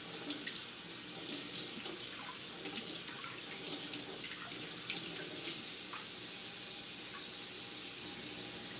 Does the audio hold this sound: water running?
yes